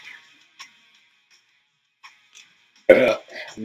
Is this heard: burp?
yes